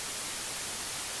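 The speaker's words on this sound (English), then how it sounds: "White noise has a horizontal spectrum, meaning that every frequency has the same intensity." Steady, even white noise hiss from a PRBSynth1 noise synthesizer built on an Arduino Pro Mini, constant and fairly soft with no variation or other sounds.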